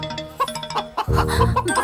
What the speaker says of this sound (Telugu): ఇక్కడెక్కడో కోడి సౌండ్ అనిపిస్తుంది.